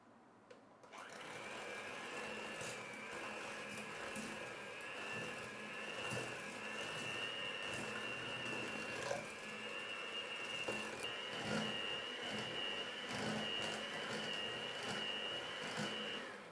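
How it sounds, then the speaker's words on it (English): A hand mixer beats cream cheese and sugar for a Basque burnt cheesecake batter, a steady whining motor drone that runs close and continuous for the whole stretch, with slight scraping fluctuations and no talk. "We'll then add in the sugar and continue beating until it's light and fluffy."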